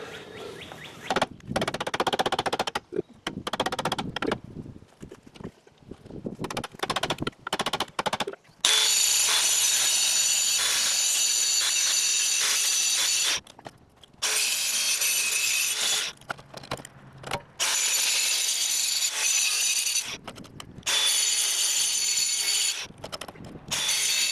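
A power grinder grinds down bent metal parts while a trailer jack is replaced, loud, harsh bursts of several seconds each, separated by short pauses.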